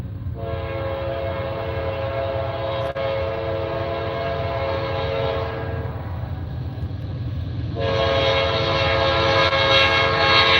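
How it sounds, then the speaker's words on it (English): A loud, sustained freight train horn blares over the heavy rumble of a passing train, dipping briefly before sounding again even stronger. "Talk about a loud horn."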